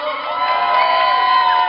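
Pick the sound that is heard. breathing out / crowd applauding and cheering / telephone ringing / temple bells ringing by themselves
crowd applauding and cheering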